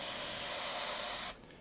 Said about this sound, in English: Let me spray this out.